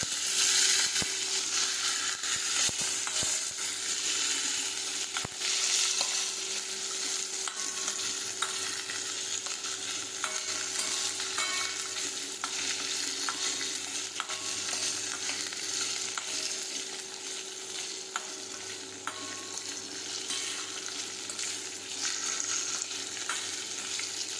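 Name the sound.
okra being sautéed in a pan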